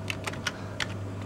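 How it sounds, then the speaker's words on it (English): A handful of keystrokes on a computer keyboard while entering text for a flyer in Photoshop, four or so quick, close, light taps over a steady low hum, with no talking. "I'm going to type in"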